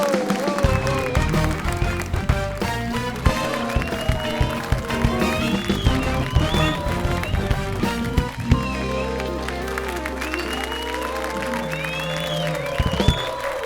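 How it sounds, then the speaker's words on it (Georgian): Studio audience applause greets a guest arriving on a Georgian late-night TV talk show, a steady wash of clapping with a few cheers that carries on for most of the stretch, with music and a host's voice running over it. "აპლოდისმენტებით შევეგებოთ"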